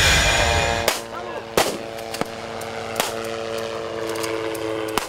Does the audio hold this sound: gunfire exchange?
yes